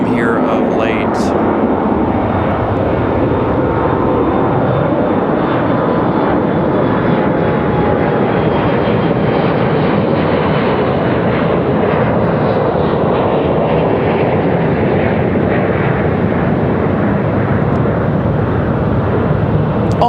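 A Frontier jet airliner departs Raleigh-Durham airport, its engines roaring loud and steady throughout with broad rumbling noise.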